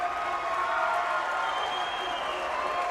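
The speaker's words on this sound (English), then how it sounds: "let's give both fighters a big round of applause" A crowd at a cage-fighting event applauds the fighters after the bout, a steady wash of clapping and some cheering that carries evenly throughout.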